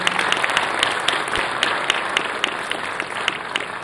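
An audience at the inaugural session of an international computing conference gives a round of applause for a university professor. Steady, even clapping from a hall full of people holds at a moderate level throughout, with no talking.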